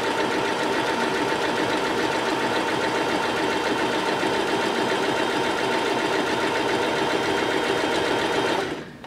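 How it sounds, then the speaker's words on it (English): A sewing machine stitches fabric along a dashed line for a half-square triangle quilt block, running at a steady fast whirring hum up close and stopping abruptly at the end. "So as you sew on your dashed line,"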